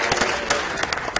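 An audience at a talk on participatory budgeting bursts into steady applause, with many hands clapping close and lively and faint crowd voices beneath.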